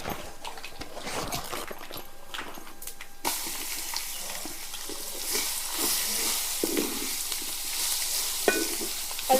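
Crushed tender jackfruit hits a hot tempering of curry leaves in a pan, giving a steady sizzle with scraping and stirring noises, moderately loud and close.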